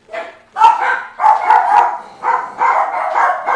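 A dog barks repeatedly in quick, loud bursts close by, with short gaps between clusters of barks and yips.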